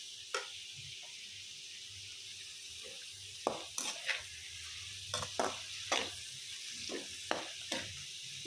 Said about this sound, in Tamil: அறுத்து வச்சுருக்கேன் வெங்காயத்தை சேர்த்துட்டு கொஞ்சம் நேரம் வதக்கிக்கோங்க.